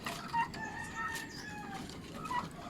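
Newly hatched turkey chicks making high, thin peeping chirps, several short calls overlapping faintly against a quiet farmyard background.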